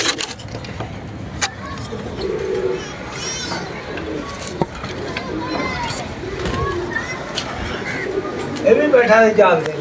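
An antique pigeon coos in low, repeated phrases, partly buried under people talking, passing car noise and other birds in the background.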